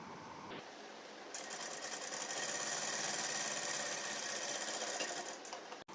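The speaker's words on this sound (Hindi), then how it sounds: "अब मैं इधर साइड भी सिलाई लगा दूँगी" Sewing machine stitching a side seam joining two fabric pieces of a baby suit, a steady close whirring run lasting several seconds with no talk.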